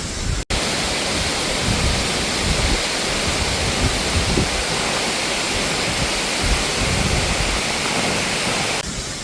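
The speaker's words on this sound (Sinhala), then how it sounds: "ඉතින් ලස්සනට වතුර පාර පහළට එනවා." Katahira waterfall pours down into a pool below, a loud, steady, full roar of rushing water heard up close, with a brief gap near the start.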